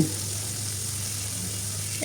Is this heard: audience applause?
no